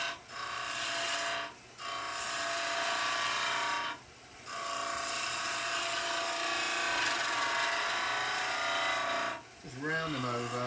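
Skew chisel cutting a shoulder into a chair leg spinning on a wood lathe: a continuous scraping rasp that stops briefly three times between cuts, ending on a short rising tone.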